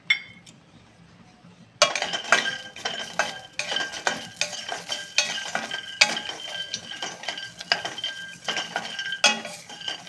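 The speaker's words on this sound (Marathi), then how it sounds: "आपण शेंगदाणे भाजून घेऊ।" Peanuts roast in a pan, with a quiet opening before repeated stirring scrapes, light clinks of a utensil against metal and a faint sizzle running steadily to the end.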